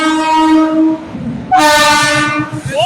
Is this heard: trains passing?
yes